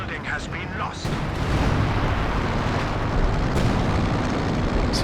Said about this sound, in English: Sector artillery coming down